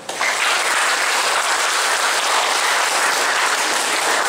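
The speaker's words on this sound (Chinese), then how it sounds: "各位给我们这样的空间一个掌声好不好？" A full audience applauds steadily in a small concert space at a coastal arts center. The dense clapping is loud and sustained for several seconds without a break, and no voices sit over it.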